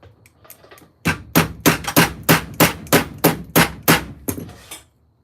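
A hammer taps a go-kart part back into place with about a dozen loud, close, evenly spaced metallic blows, preceded by a few lighter taps.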